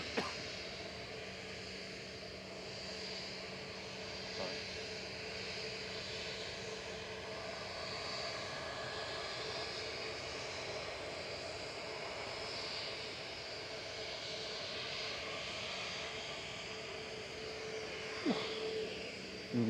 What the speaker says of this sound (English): EasyJet's GEZUO just touching down on T3 right.